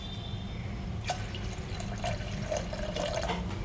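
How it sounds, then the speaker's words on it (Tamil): Water is poured into a pot for a pressure cooker on the stove, a soft close trickle and splash with a few brief clinks, fairly quiet throughout. "தண்ணி ஊற்றிடுங்க"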